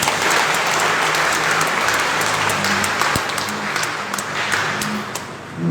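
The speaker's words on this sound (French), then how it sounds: "Applaudissez-les s'il vous plaît." Congregation applauding at a Sunday Mass in church, a steady dense wash of clapping that holds for several seconds, broad and roomy, with a faint voice underneath.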